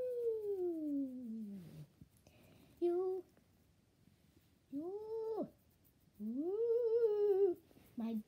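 A chatty cat gives a series of long, drawn-out meows and yowls, some rising and falling in pitch, separated by short pauses. The calls are close and clear against quiet surroundings.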